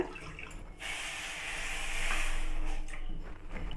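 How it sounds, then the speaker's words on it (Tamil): Water streams steadily into a pan for a few seconds, a bright rushing splash that swells and then tapers off, one and a half cups added to sugar to make syrup for bread gulab jamun. "ஒன்றரை கப் தண்ணி சேர்த்துக்கலாங்க"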